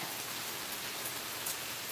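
Steady, heavy rain pours down in a continuous even hiss, with no talk over it.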